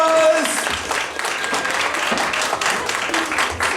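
An audience at a poetry slam breaks into loud, sustained applause, a dense wash of clapping with a brief voice near the start.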